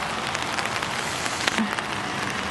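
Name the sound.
rain falling on trees with wild parrots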